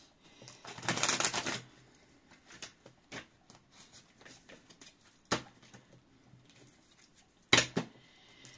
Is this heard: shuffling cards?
yes